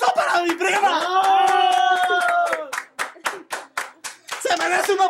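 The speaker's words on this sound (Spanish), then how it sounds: "Eso, un aplauso para mi prima." People clapping for a cousin named Sandra at a festive family gathering with drinking, first under cheering voices, then a run of distinct, sharp, close handclaps in irregular rhythm before voices return.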